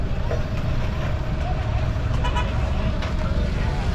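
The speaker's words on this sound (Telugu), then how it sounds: "ఇది కూడా ట్రాఫిక్." Dense road traffic near a bypass in a town, with a constant loud roar of cars, buses and trucks and a few short horn toots, while people talk faintly underneath.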